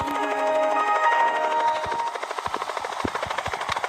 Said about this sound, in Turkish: Helikopter mi var?